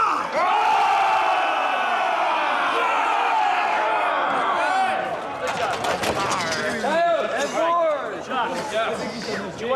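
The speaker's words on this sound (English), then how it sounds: "And when they lift the sword, we're all going to cheer." Crowd of extras on a film set raising a loud, sustained collective cheer and battle-cry roar, with shouting voices swelling together near the camera before breaking into ragged individual whoops.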